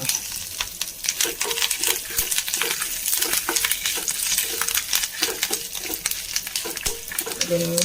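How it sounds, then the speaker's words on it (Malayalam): Dried red chillies, curry leaves and fenugreek fry in hot oil, producing a loud, dense sizzle with rhythmic scraping and stirring pulses throughout, close up and without talk. "വറ്റൽമുളക്, കറിവേപ്പില, മറ്റേ ഉലുവ, അത് മൂത്ത് കൊടുക്കാം"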